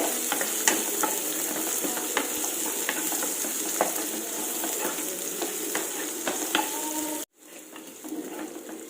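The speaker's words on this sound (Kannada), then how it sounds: "ಇದೀಗ ಫ್ರೈ ಆಯಿತು ಈರುಳ್ಳಿ ಫ್ರೈಗೆ ಇಟ್ಟೆ" Onions frying in a pan over medium flame give a constant bright crackling sizzle with occasional stirring clicks, close and steady, then a sudden cutoff near the end before the sizzle resumes more faintly.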